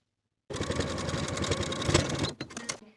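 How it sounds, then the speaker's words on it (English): A sewing machine runs steadily for a couple of seconds, top stitching along the raw edge of a T-shirt chest pocket, a dense mechanical whir that slows and stutters briefly before stopping. "Now we can top stitch the top of our pocket along the raw edge with a 1/2 inch seam allowance."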